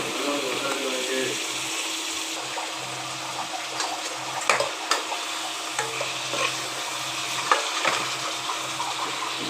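Washed chicken pieces sautéing in a pan for curry leaf chicken sukka, a constant close sizzle with occasional clacking stir strokes and small scraping bursts.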